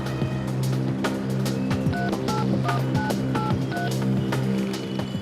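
A telephone number is dialed for a local call: a quick run of about eight short tones over a steady background hum.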